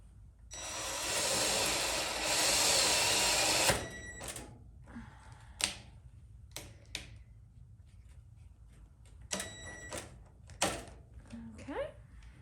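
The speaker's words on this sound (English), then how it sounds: "There's no turning back once I drill this hole in it." A drill bores a hole in a wooden entry table cabinet, a loud whirring burst lasting several seconds, followed by quieter knocks, taps and scraping handling sounds, with a voice speaking now and then.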